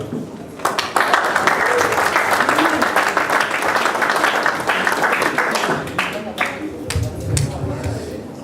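Audience applause at an evening event, sustained and dense clapping from a crowd lasting several seconds, fairly loud and close, with a voice briefly rising near the end.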